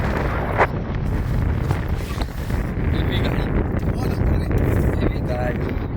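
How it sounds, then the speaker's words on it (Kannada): Heavy wind buffeting the microphone with a constant low roar and rumble, and people's voices faintly under it. "ಹೆವಿ ಗಾಳಿ"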